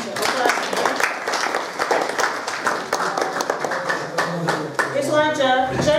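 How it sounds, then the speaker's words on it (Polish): Audience applause at a county school sightseeing and tourism quiz contest, a steady wash of many hands clapping close by that runs the full length, with voices mixed in and some clearer speech rising near the end. "Myślę, że tej grupie też należą się oklaski."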